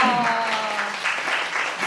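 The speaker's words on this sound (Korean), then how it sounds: "이번에는 박수 한번 칠까요?" Audience clapping at a college chapel talk event, a dense steady wash of applause close and loud, with voices talking and cheering over it throughout.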